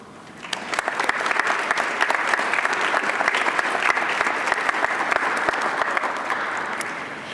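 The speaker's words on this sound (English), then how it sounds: "Please join me in thanking them with a round of applause." An audience at a National Honor Society induction ceremony breaks into a round of applause, with many hands clapping steadily and fairly close for several seconds.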